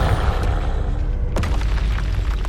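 Confringo spell explosion from the PS5 game Hogwarts Legacy, a loud booming blast over dense rumbling battle noise, with a sharp burst partway through and a sustained roaring texture throughout.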